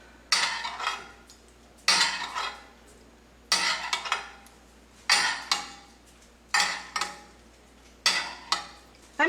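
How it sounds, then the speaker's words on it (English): A pork roast is basted in a roasting pan, with a series of roughly even metallic scrapes and clanks from a spoon against the pan, each burst fading quickly before the next. "So I'm going to just kind of baste this."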